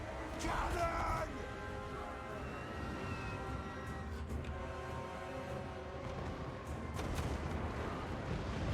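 Cannon artillery fire booms through a Warhammer 2: Total War battle, with heavy thuds set in a dense, continuous roar of combat noise and shouting that never lets up.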